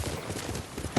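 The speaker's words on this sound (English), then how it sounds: "my digital deluxe horse better be able to hop that log." Horse hooves clip-clop at a steady run in the samurai action game Ghost of Tsushima, a loud continuous beat with a brief louder thump at the end.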